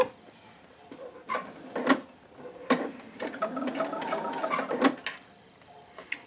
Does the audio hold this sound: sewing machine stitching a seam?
yes